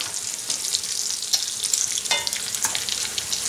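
Battered packrat meat frying in hot oil, a steady close crackling sizzle with bursts of popping spatter, no talking.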